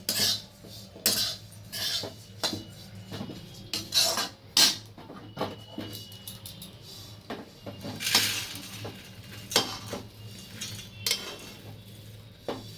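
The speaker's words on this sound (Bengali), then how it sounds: "ওটসটাও ভাজা হয়ে গেছে এবার আমি আর একটা পাত্রে তুলে নিচ্ছি" Roasted oats are transferred from one cooking pot into another container, with irregular clinks, taps and scrapes of a utensil against the vessels and nobody speaking.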